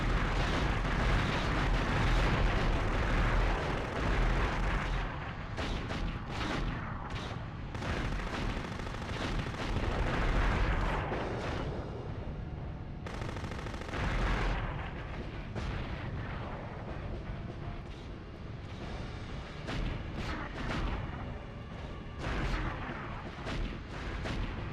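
Gunfire aimed at the player in the ED-209 simulator video game, a sustained barrage of heavy shots and booming blasts, loud and continuous with dense rapid bursts throughout.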